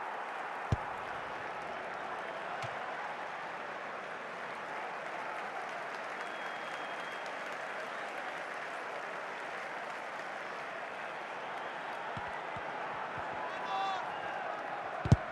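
Steady applause and crowd noise from a football stadium crowd in the FC Mobile video game fills the whole stretch at an even level, with a few sharper accents near the end.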